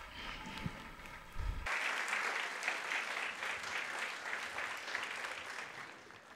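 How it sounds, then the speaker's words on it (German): Audience at a youth festival applauds the translators, a broad, steady wash of many hands clapping that starts abruptly and carries on loud and unbroken for several seconds. "Nun jetzt bitte ein Applaus für die Übersetzer."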